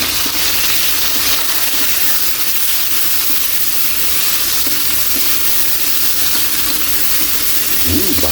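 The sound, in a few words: garlic, onion and tomato sautéing with ginger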